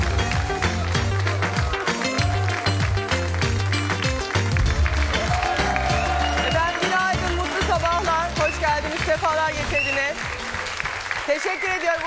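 A television studio audience applauds continuously and energetically, a dense rippling wall of clapping with music and voices mixed in beneath, steady throughout.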